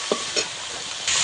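Spice paste for a spicy Aila fish curry stir-fries in oil, giving a loud, hissing sizzle with a couple of brief stirring scrapes near the start and a sudden burst of harsher frying toward the end.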